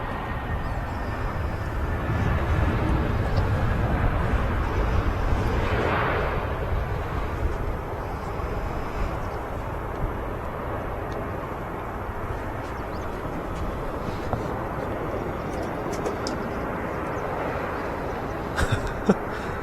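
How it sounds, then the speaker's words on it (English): A heavy, continuous low jet roar fills the scene as an easyJet Airbus A320neo arrives from Amsterdam to land at Manchester Airport. The rumble swells slightly early on, then holds steady at close range. "There's another EasyJet, which is UZLA, which will be one of the first A320neos arriving from Amsterdam."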